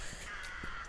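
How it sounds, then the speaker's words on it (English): Crows caw overhead near a roost while someone walks beneath, several short harsh calls overlapping in a steady outdoor wash of background noise. "which is where you can hear lots of crows in the background."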